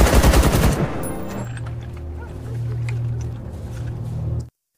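Kalashnikov rifle fired in a burst during an open-air test, a rapid loud volley at the start that stops abruptly and leaves a low rumbling tail with scattered faint clicks.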